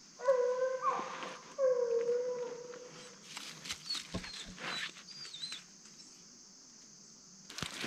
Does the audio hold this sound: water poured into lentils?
no